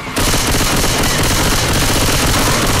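Sustained rapid gunfire in the video game Left 4 Dead 2 blasts loud and dense after a brief quiet start, a continuous clattering barrage with no pauses.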